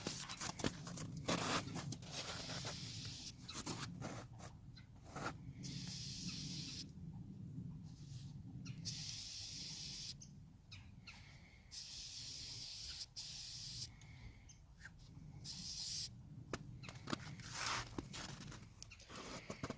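Oil is sprayed from an aerosol can onto a K&N cold air intake filter in a long series of close, loud, hissing bursts, separated by short pauses.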